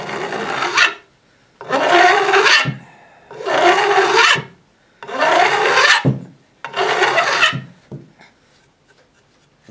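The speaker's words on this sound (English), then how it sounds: "Here you can hear the file stop working almost." Five rhythmic rasping strokes of a metal file scraping guitar fret ends, each about a second long with short pauses between, close and loud.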